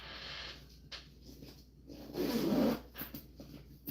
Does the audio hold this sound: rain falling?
no